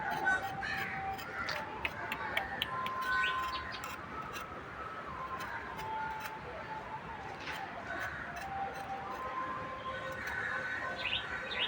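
Crows caw and small birds chirp outdoors, fairly faint and distant, over a steady background hum.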